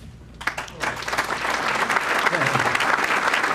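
A banquet crowd at the Meadville Chamber Diamond Awards breaks into applause for the winner of a community service award. A few sharp claps start it, then it swells into loud, sustained clapping.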